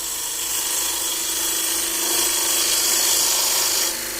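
A bowl gouge cuts wood on a lathe, giving a steady, close, bright hiss of shaving that swells slightly partway through, then eases near the end.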